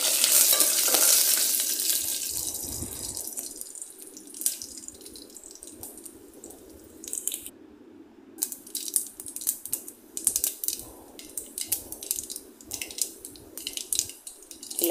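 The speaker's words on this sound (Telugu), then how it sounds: "కర్రీ లీవ్స్, ఎండుమిర్చి, వెల్లుల్లి రెబ్బలు అన్నీ యాడ్ చేసేసి అవి పోపులో 1 మినిట్ ఫ్రై అవ్వాలండి" Curry leaves, dried red chillies and garlic cloves fry in hot oil as a tempering for black pepper rasam. A loud opening sizzle fades, followed by repeated sharp spoon-stirring scrapes and clicks in the pan.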